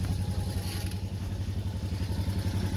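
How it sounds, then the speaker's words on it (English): A BMW Isetta bubble car's small engine idles in neutral close up with a steady, pulsing putter and no voices. "So we're going to put her neutral, so they're idle here. You can listen to the motor."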